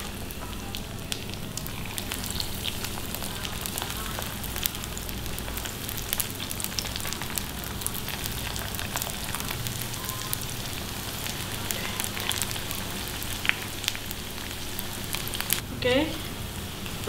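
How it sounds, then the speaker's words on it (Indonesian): Small cut pieces of food frying in hot oil, a steady crackling sizzle with scattered pops, fairly close and continuous. "Oke, kita masukin ke minyak yang udah panas."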